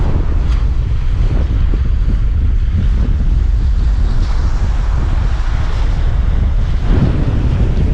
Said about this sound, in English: We got a heck of a wind.